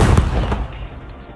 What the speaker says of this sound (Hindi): बम निरोधक दस्ते को बुलाया गया और फिर सुरक्षित तरीके से विस्फोटक को नष्ट कर दिया गया